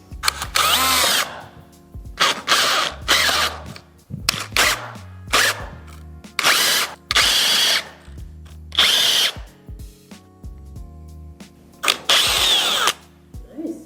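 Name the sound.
power drill boring into wood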